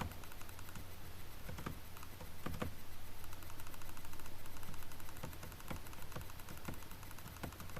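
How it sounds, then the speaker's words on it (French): Computer mouse clicks sound as sharp, scattered close taps over a steady low hum, with no talking. "Désolé pour les clics de ma souris."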